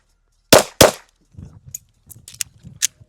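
Two sharp, loud pistol shots in quick succession from a 2011-platform handgun fired at targets, followed by softer rustling and faint clicks from handling.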